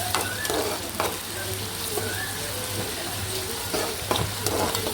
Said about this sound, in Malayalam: എന്നിട്ട് ഇഞ്ചി നന്നായിട്ട് നമുക്കൊന്ന് മൂപ്പിച്ചെടുക്കാം.